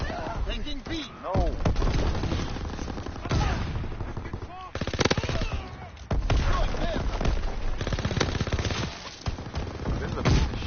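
Gunfire from a gun in Call of Duty WW2 crackles in dense automatic bursts with occasional louder booms, close and loud throughout, while a player talks over much of it.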